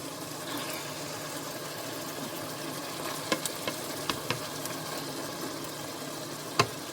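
Sloppy joe ground meat frying in a pan gives a steady, moderate sizzle with a few sharp clicks of a utensil scraping near the end, and no one speaks.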